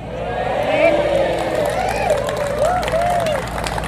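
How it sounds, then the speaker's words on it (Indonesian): An audience gives applause that sounds weak and unenthusiastic at a religious lecture by a preacher. A steady, fairly loud crowd din carries a scattered patter of clapping, with voices mixed in. "Dari tepuk tangannya kelihatan nggak bertenaga"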